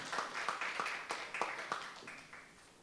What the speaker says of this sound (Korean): 세 분 발표해 주신 분께 다시 한번 큰 박수를 주시기 바랍니다